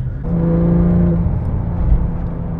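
A 2007 Porsche 911 GT3 engine pulls steadily while driving, a loud, continuous droning note with a sustained tone through the middle, heard from inside the car with no talk.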